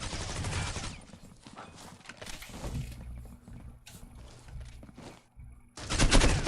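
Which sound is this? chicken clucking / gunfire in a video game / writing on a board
gunfire in a video game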